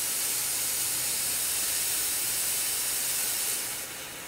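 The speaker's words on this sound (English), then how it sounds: "that's gonna let a lot of volume of steam come out" A Chief Steamer 75 steam cleaner blasts steam through a single-hole nozzle, a loud, steady broadband hiss that holds for about four seconds before easing slightly at the end.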